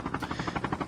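Helicopter in the Call of Duty Mobile video game, a steady pulsing rotor chop with quick regular beats, fairly faint and heard alone.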